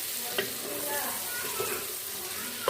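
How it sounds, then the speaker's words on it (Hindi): Garlic, ginger and spices fry softly in a pan with a low, steady sizzle and a few faint stirring clicks, fairly quiet and with no talk over it. "लहसुन अदरक डाल दिया और इसको हमें हल्का सा फ्राई कर लेंगे"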